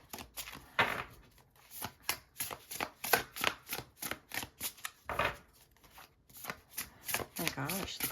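Tarot cards are shuffled by hand in quick, crisp riffling bursts, repeated many times with short pauses between, close and fairly quiet.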